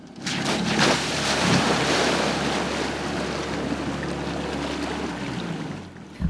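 A homemade amphibious Zaporozhets car crossing the Bug river, a steady engine drone under continuous rushing water and wind noise, close and loud, cutting off near the end.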